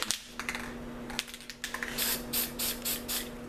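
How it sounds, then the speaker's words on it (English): Red spray paint hisses from an aerosol can onto an orange layer of a sunset painting, a series of short close bursts with small taps and clicks between them, building into longer sprays toward the end. "And you spray it right on top of that orange."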